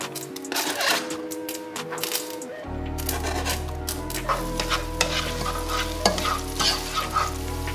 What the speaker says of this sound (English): So first I'm going to add the onions and then the garlic.